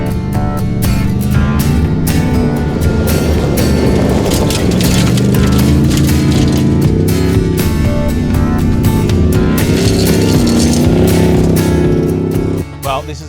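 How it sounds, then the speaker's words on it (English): A Supercheap Auto Racing Silverado race truck drives on dirt trails during Finke desert-race testing, its loud engine droning steadily throughout with rough bumps and knocks, dropping off abruptly near the end. "First time I get a chance to drive the Supercheap Auto Racing Silverado"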